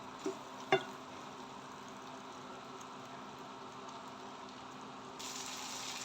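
Spice paste of chili powder and other ground spices frying in oil, a soft continuous sizzle with a couple of small clicks near the start and a brighter hiss swelling toward the end.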